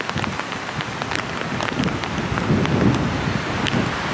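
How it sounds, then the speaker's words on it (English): Hurricane wind gusts buffet the microphone alongside rain pattering on surfaces, a dense continuous rush that swells slightly toward the end, with no talk. "You'll see these wind gusts, look."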